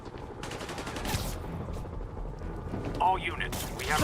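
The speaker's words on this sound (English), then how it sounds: "He's shooting his weapon!" Gunfire from a weapon amid a chaotic confrontation, a few sharp shots breaking through dense background noise with voices nearby, two louder bursts toward the end.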